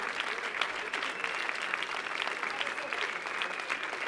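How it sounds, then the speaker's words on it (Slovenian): A crowd applauds steadily at a radio show's 1000th episode, with dense clapping that holds a constant loudness throughout. "še en aplavz za Srečo"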